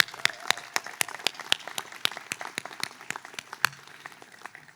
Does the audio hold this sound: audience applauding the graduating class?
yes